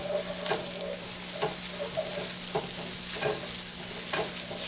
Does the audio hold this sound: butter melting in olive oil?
yes